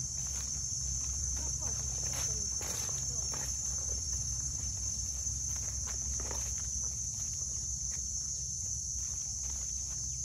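Insects, likely crickets, chirp in a steady, unbroken high trill throughout a forest where people are hunting for yellow mushrooms, with soft footsteps and rustling on the ground underneath.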